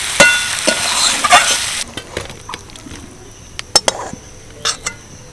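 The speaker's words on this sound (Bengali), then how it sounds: "সব কিছু মিশিয়ে নিয়ে এবার আমি নামিয়ে নেব" Bitter gourd coated in spices and chopped coriander is stirred in a hot pan, a steady sizzle giving way to scattered scrapes and clinks of the spoon against the metal, close and fairly loud.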